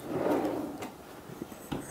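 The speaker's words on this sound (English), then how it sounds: "there you go, self-closing at the end" A full extension drawer on a CNC cart slides shut and self-closes at the end, a smooth rolling rush followed by a few soft clicks and light taps as it settles, close by in a workshop.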